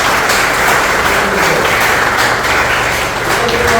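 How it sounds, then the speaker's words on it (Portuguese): Dense, steady applause from a congregation at a church assembly, loud and continuous throughout with no clear gaps, a little faint voice murmur mixed in. "Uma salva de palmas"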